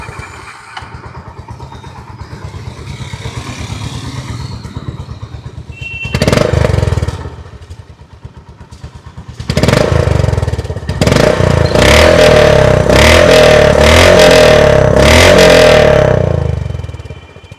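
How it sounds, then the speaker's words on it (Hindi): A Honda CB350 motorcycle engine idles with a thumping beat, then revs hard several times, rising and falling, close by and loud. "और अब सुनेंगे CB350 का।"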